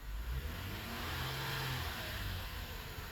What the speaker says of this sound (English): If I rev it up, I'll show you.